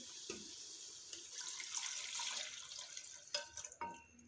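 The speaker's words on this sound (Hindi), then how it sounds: "अब मैं इसमें तकरीबन 2 कप पानी डालूँगी।" About two cups of water pour steadily into a pot of mutton curry for a few seconds with a broad rushing hiss, followed by a couple of clinks and drips near the end.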